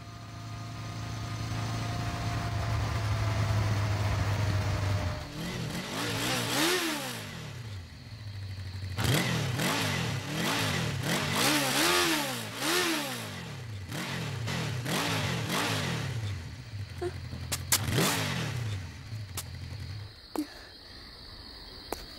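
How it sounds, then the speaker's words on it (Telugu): A motorcycle engine sputters and revs in uneven bursts, repeatedly catching and dying as it struggles to run, loud and close with no one talking. "ఈ బైక్ ఇంకా నడవదా? నడవదనుకుంటా."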